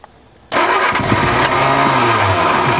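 A 1961 Ford Anglia engine on a cold start: after a brief quiet moment, a single sharp crank catches and the engine bursts into a loud, steady running idle with a slightly rising pitch.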